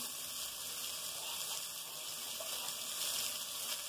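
Chopped onion hisses steadily in hot oil alongside garlic already fried golden, for a soup of rooster head; a continuous, even sizzle with a faint watery crackle and no voices.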